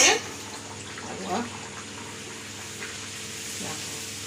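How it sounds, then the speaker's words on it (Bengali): Luchi, small rolled puffed flatbreads, frying in hot oil, a steady soft hiss and sizzle throughout with a few louder bubbling spurts, while someone talks over it. "ভাজা হচ্ছে"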